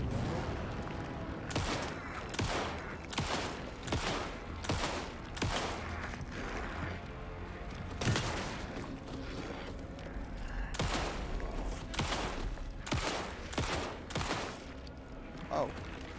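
Pistol gunfire in the video game Alan Wake 2, a series of sharp shots fired in irregular clusters across the stretch with ringing tails, loud over a low game ambience and occasional voice.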